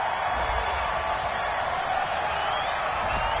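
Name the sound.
crowd booing a penalty call in a football video game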